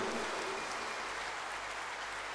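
Steady applause from an audience at a public gathering fills the space with a dense, even wash of clapping that holds at a constant level and stays fairly distant, with no voices over it.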